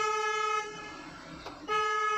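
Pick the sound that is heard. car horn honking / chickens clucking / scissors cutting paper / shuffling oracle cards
car horn honking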